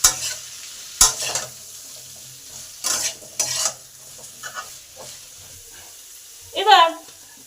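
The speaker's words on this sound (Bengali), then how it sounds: "নুন আর হলুদটাকে এই সমস্ত সবজির গায়ে ভালো করে মিশিয়ে দিলাম।" Chopped cauliflower stalks and other vegetables are stirred in a pan with salt and turmeric, with several sharp scraping strokes and spoon knocks against the pan between quieter gaps, up close.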